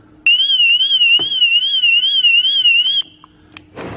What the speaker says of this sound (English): But if I put my alarm on